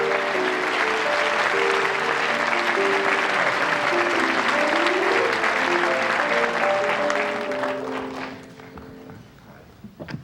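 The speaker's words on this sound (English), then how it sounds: "They're all applauding." A television talk-show studio audience applauds a guest with loud, dense, sustained clapping that thins out and fades near the end.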